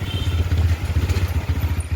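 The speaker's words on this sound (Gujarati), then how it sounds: "આટલી જગ્યામાંથી અમારે બાઇક કાઢવાની" A motorcycle edges through a narrow gap on a rough Ahmedabad road, its engine chugging close and loud in a steady pulsing rhythm with faint clatter.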